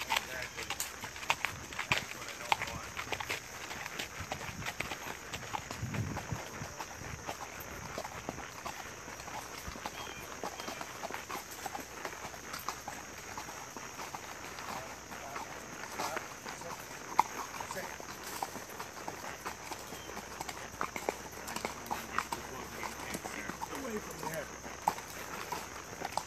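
Horse hooves clip-clop in an irregular walking rhythm during a ride in West Babylon, New York, faint and distant under a steady wind-like hiss, with occasional sharper knocks.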